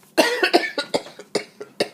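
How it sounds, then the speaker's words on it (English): A rapid fit of repeated coughs, about eight sharp bursts in quick succession, close and fairly loud. "thought I was going to have a coughing fit"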